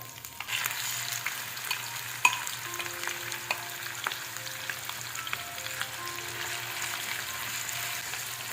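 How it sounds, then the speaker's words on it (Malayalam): Mussels coated in masala fry in oil with an even, continuous sizzle, broken by scattered sharp pops and spatula scrapes against the pan, and no one speaking. "ഇനി നമുക്ക് ഇതിലേക്ക് നേരത്തെ മസാല പുരട്ടി വെച്ച കല്ലുമക്കായി ചേർത്ത് കൊടുക്കാം"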